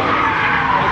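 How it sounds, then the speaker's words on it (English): A Dodge Hellcat drifting on a race track during a drift experience at Exotics Racing, a loud, continuous tire screech and engine roar filling the whole second, close by with no break. "they're drifting a hellcat right now for the drift experience at Exotics Racing here"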